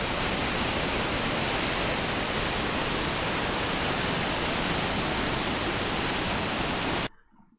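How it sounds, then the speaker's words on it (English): Upper Mesa Falls waterfall gives a dense, even rushing roar, loud and constant, then it cuts off abruptly near the end. "It's a huge waterfall,"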